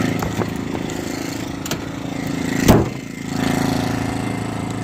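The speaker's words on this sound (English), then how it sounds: "you can hear it idling with the eco mode on" A Predator 2000 generator idles in eco mode with no load, giving a steady mid-pitched engine drone with one brief thump partway through, close and continuous.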